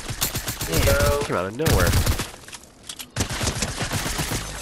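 Rapid bursts of Fortnite gunfire crackle close by in quick repeated volleys, with someone talking over and between the shots.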